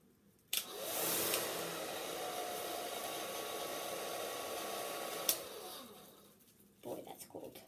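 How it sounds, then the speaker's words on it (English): A handheld blow dryer runs inside a bag, producing a steady loud whooshing roar for several seconds before switching off, with brief talk afterward. "I will just put the blow dryer in there and I'll turn the blow dryer on."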